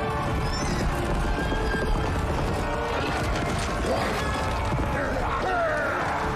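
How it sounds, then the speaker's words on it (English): Horses in a fantasy TV battle scene: continuous dense clamor of hooves, whinnies, creaking and metallic crashes under a loud cinematic score, with no clear speech. "those are probably the horses"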